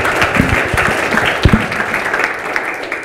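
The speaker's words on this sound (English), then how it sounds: "let's give them a round of applause" An audience at a marine law symposium applauds a panel, a loud, close burst of many hands clapping with a few sharper nearby claps standing out, sustained for the whole stretch.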